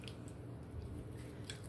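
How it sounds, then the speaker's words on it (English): A spoon stirs a breakfast mixture with flaxseed, giving soft, close, wet squishing sounds over a steady low hum in a brief continuous stretch. "I just like to stir this up a little bit."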